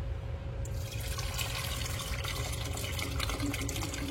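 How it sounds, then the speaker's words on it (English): Water pouring steadily into a plaster mold holding cooling wax, a continuous close splashing flow that starts abruptly and keeps running. "I could pour some water into there."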